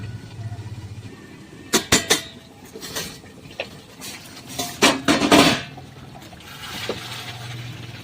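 A pot of gondhoraj chicken cooked with yogurt, lemon juice and sugar is covered with its lid: a few quick metallic clanks and rattles, a pause, then another cluster of clinks, close and fairly loud.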